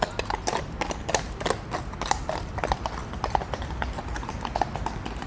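Horses walking along a path in Hyde Park, London, on a morning outing, their hooves clopping in a steady, continuous rhythm at close to moderate distance over soft outdoor ambience.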